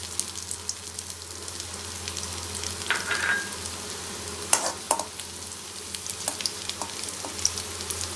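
Chopped ginger and three or four garlic cloves frying in hot oil for a potato manchurian, a continuous close sizzle broken by irregular stirring clacks and scrapes, a few sharper knocks near the middle.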